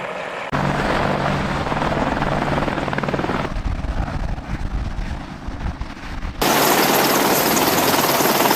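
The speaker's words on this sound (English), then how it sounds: "Provided by HH-60 Medevac Blackhawk." An HH-60 Medevac Black Hawk helicopter in flight, a loud, steady roar of rotor and engine that holds throughout, shifting in tone midway and jumping louder near the end, with no voices.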